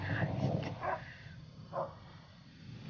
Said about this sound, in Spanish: Ahora es el perro que comienza a ladrar.